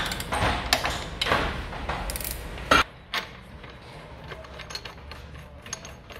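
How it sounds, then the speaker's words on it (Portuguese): A ratchet tightens a screw all the way while motorcycle parts such as footpegs and a steering damper are fitted. Several sharp, close clicking bursts come first, then the ratcheting fades to quieter, fainter ticks. "acompanhar o enrolar do parafuso até o final, onde vai ter a pressão certa e o momento em que acaba"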